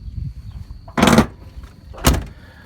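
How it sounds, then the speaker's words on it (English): Third door of a 1998 Z71 pickup truck opened and handled, two separate loud clunks about a second apart, close by against a quiet background. "it's got a third door, and that part there opens"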